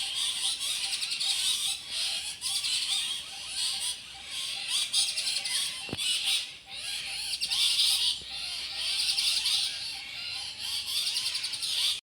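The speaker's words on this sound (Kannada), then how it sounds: "ಗಿಳಿಗಳು ರಾಶಿ ಬಂದಿದೆ ಆಯಿತಾ. ಒಂದು ಮರದಲ್ಲಿ ಕೂತು ಗಲಾಟೆ ಮಾಡ್ತಾ ಉಂಟು" A dense chorus of parrots chatters and squawks continuously from a single tree, many birds calling at once from close by, with a brief sharp knock midway.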